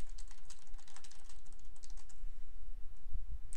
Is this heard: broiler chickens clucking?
no